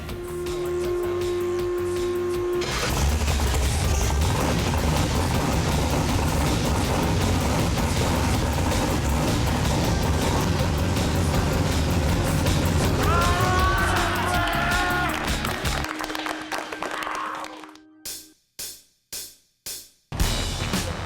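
A big block Chevy nitrous drag race engine cranks and fires, then roars in a loud, sustained rumble for about fifteen seconds before cutting off and sputtering through several sharp pops near the end.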